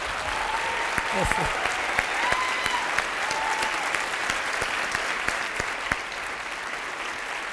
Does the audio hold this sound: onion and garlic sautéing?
no